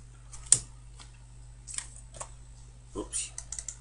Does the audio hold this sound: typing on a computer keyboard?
yes